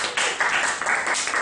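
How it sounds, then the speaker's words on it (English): A small audience at a talk claps briefly for a volunteer, a short close burst of quick overlapping hand claps swelling and dipping in loudness, with no voices on top. "Let's get a round of applause for Mittul."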